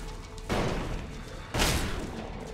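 Gunfire in the video game Elex 2 sounds as two heavy, booming shots about a second apart, each a broad, loud blast followed by a lingering rumble.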